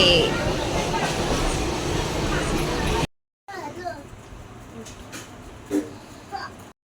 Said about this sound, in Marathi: ट्रेनने निघालो आता अंधेरीला.